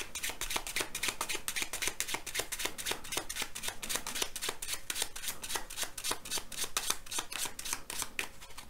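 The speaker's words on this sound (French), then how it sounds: "Et on va mélanger toutes les cartes ensemble." Playing cards riffled and mixed together during a close-up card magic trick: a steady, rapid run of crisp fluttering clicks lasting about nine seconds, close and even in loudness, with no talking.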